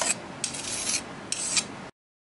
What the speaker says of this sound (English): Final edge filing deburred any roughness before painting.